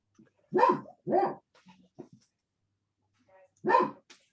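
A dog barks several times over an online meeting, with a pair of quick barks near the start and another single bark a few seconds later, fairly close with quiet gaps between.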